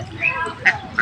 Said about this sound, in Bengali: পুকুরে হাঁস